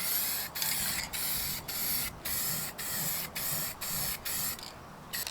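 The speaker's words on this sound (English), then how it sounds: "create a base coat so that the paint goes on more evenly" A spray can lays down a base coat in a run of short hissing bursts, each roughly half a second long and separated by brief gaps, close and steady with a longer spray at the end.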